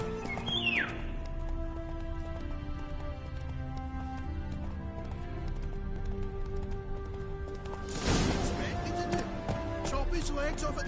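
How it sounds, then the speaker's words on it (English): A horse in The Witcher 3 whinnies, then keeps up a fast clip-clop gallop over game music and ambience, with a louder burst of effects near the end. "Run, Roach"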